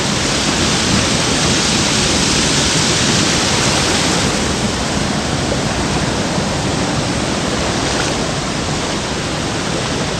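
A jungle waterfall in Thailand roars in a dense, unbroken rush of falling water, loud and close throughout, with no voices.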